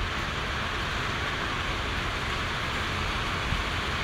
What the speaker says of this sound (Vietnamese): Trời đang mưa to cho nên hơi ồn, các bạn thông cảm nhé.